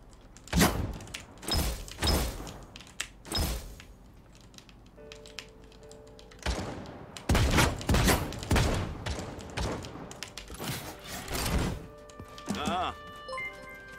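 Bursts of video game gunfire crack out in clustered volleys, sharp and fairly loud, separated by short lulls. Some tonal game effects sound in between, and a voice talks intermittently over the shots.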